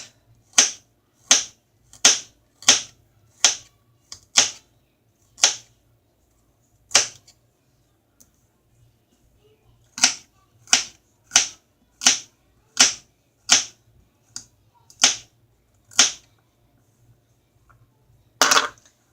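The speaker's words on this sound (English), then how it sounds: "Cut my carrots." A knife chops carrots on a cutting board for meatloaf, giving a series of sharp, close, evenly spaced chops in two bursts with a short pause between, then a final louder knock.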